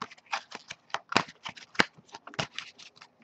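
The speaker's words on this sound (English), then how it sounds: "as I shuffle the deck" A tarot card deck being shuffled up close, a quick series of crisp riffling snaps and soft slaps in an uneven rhythm, fairly quiet.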